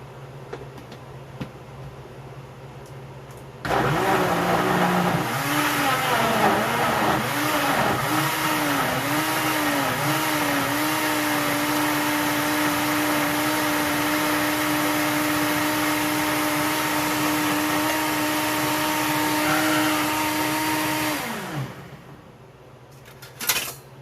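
Blender motor whirring steadily as it purées onions, peppers with seeds, and water for a stew, starting abruptly, running loud for about seventeen seconds with a pitch wobble early on, then winding down.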